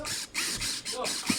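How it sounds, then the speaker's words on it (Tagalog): A ratchet wrench tightens bolts during assembly of a polyurethane executive office chair, giving a run of rapid clicking bursts with brief pauses between them, fairly close and steady. "And then you need to tighten all the bolt."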